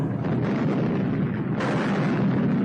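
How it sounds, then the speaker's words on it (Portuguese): Artillery bombardment explosions roll continuously as a loud, dense, rumbling barrage of blasts from French guns during a World War II battle at Targul Frumos, heard close with no voices. "a França desencadeou um feroz bombardeio de artilharia"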